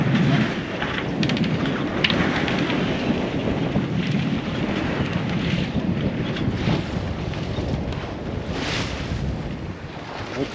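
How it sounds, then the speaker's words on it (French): Steady, loud wind roaring across an open sailboat off Alicante in a building sea, mixed with water rushing against the hull, continuous throughout with no voices. "un peu plus de vent"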